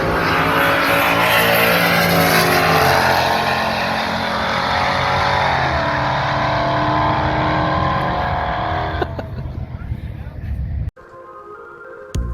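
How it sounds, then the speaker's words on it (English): A 1980s Cadillac limousine roars down a drag strip at full throttle, its loud engine note sustained and shifting pitch as it pulls away, fading near the end of the run. "In the far lane, you're about to see what they touted over the PA system as the world's fastest limousine."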